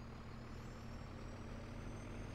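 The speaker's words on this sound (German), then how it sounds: "Ja, ich komm schon mal mit dem LKW." A truck engine drones steadily in the farming video game Landwirtschafts-Simulator 2013, a continuous low rumble with a faint high whine, no talk over it.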